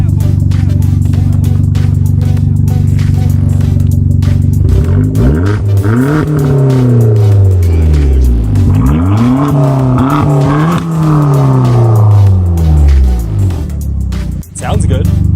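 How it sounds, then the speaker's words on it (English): A Lamborghini Gallardo engine idles steadily, then revs up and down several times in loud, close bursts that rise and fall, with voices talking over it. "Give it a little rev."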